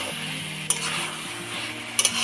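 A spoon stirs an ash gourd, coconut and shrimp curry in a pan on a gas stove, giving a steady low sizzle with a few sharp scrapes and clinks against the pan.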